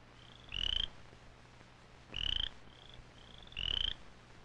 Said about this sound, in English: It's a cricket frog, another amphibian. The cricket frog gets its name from the sound it makes.